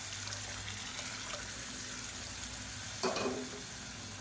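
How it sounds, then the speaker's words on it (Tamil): Water poured into a pan of sambar sizzles with a steady frying hiss, and a short splashing gush rises briefly near the end. "இப்போ தண்ணி சேர்த்துக்கலாம்."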